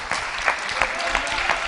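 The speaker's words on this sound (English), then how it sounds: "Give him a round of applause and get him to come up here." Audience applause at a conference in New York, steady broad clapping with a few sharper peaks, moderately loud and continuous over a short stretch.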